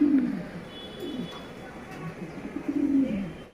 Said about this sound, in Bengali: Blue বার্লের German beauty homer.